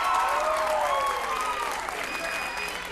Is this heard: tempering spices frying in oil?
no